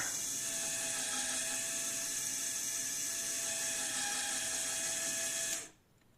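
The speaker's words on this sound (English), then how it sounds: "Get the puller pulled back." A fishing line knot tester's puller, used on 40 lb monofilament, is being cranked back with a steady mechanical ratcheting whir at close range, running evenly for several seconds before cutting off abruptly.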